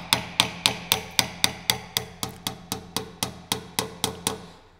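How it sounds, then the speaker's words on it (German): Hammer driving a screw and plastic wall anchor into a solid base, about sixteen evenly spaced sharp blows that ring close and loud, alone without speech. "Jetzt wird der Dübel mit der Schraube in den festen Untergrund eingeschlagen."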